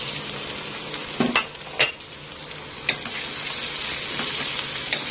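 Pork liver sautés in a pan with garlic, a steady soft sizzle broken by several sharp scrapes and clinks of a utensil stirring against the pan, close up and without speech.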